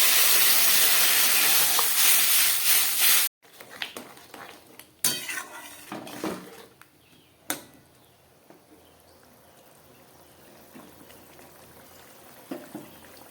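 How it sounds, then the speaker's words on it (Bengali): A pot of curry with prawns simmers and bubbles on the stove after water is added, starting with a loud steady hiss and then dropping to quieter bubbling with occasional clinks of metal cookware and utensils. "তরকারিটা ফুটে উঠেছে।"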